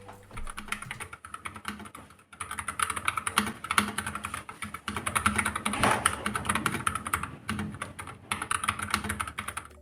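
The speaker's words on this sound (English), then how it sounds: "Now let's do a quick sound test on those Gatoron brown switches." Steady typing on a Nuphy Air60 mechanical keyboard with Gateron brown switches, soft tactile clicks, keys pressed in quick uneven runs with short pauses, close and fairly quiet.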